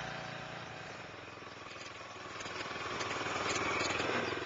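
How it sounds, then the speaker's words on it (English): A Toro Greensmaster mower's small engine, started with a recoil starter, runs with a steady close mechanical chug that grows a little louder and rougher toward the end, with no voices. "Slowly draw the recoil starter handle until it stops, then pull it to start the engine."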